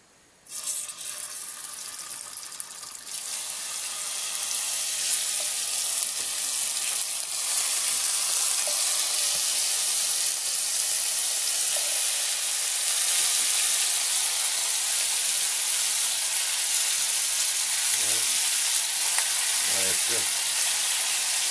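Chicken wings frying in a little oil, a steady hissing sizzle that holds evenly for the whole stretch, with faint clinks near the end and no clear talking.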